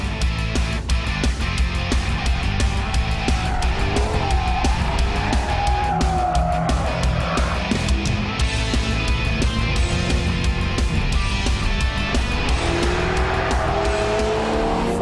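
An Aston Martin Vanquish with a nearly six-litre V12 is driven hard near its handling limit, tires squealing and engine roaring steadily and loudly throughout, without talk.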